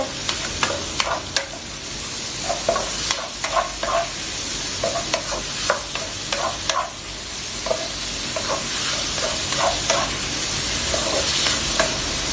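Onion, chili and garlic fry with salt in a pan, a continuous close sizzle broken by repeated scraping and clacking stirring strokes at an irregular but steady pace.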